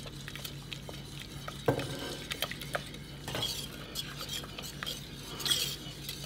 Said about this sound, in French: Donc vous mélangez bien au fouet, comme ça, ça va les casser.